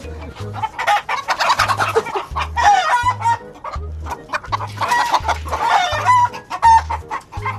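A hen clucking loudly and close up in agitated repeated bursts while someone tries to catch it, set over a rhythmic low beat of background music.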